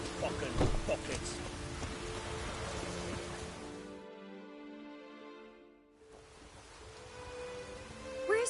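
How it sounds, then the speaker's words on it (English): Steady heavy rain in The Witcher III: Wild Hunt hisses throughout, dropping out briefly midway while a low tonal hum lingers, then the downpour returns just as loud. "Raining fucking buckets."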